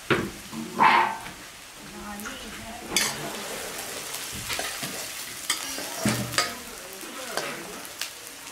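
Egg frying in a pan during a day trip at Manas National Park, with a soft sizzle and scattered utensil clinks and scrapes, heard fairly close amid faint background chatter.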